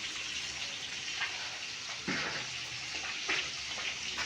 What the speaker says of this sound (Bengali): তো এখানে আমি মাছটা ফ্রাই করতেছি।